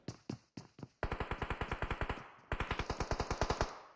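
Rapid automatic gunfire in a competitive online battle-royale shooter match: a few single shots, then two long, evenly spaced bursts, loud and close, with no voices.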